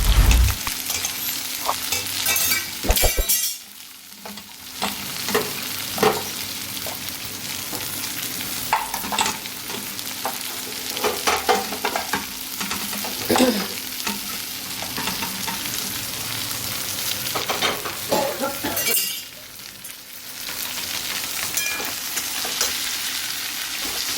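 A spiced mixture of chili, garam masala, coriander-cumin powder, turmeric and salt is stirred as it fries in a pan, with a constant sizzle and scraping spoon strokes throughout, interrupted by two brief quieter pauses.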